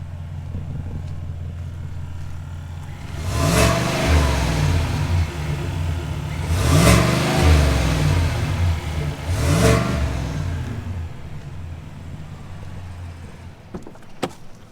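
A 2021 GMC Yukon engine revved three times from idle, each rise a steady swelling roar that falls back to a low idle hum, heard from close by with no talking and a couple of clicks at the end.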